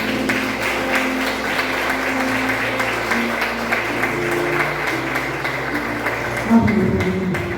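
A church congregation applauds steadily and loudly, a dense wash of clapping that carries on throughout with a brief voice near the end.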